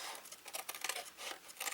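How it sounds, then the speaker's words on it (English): Paper journal flap being cut off with scissors, a run of soft snipping and crinkling patter, close and quiet with no voices. "Cut off the second flap, the one that's on the end."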